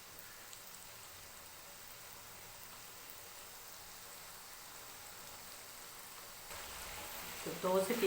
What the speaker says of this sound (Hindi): इन मसालों को और ये सब्ज़ी की थोड़ी सी बुनाई करेंगे तकरीबन 5 से 10 मिनट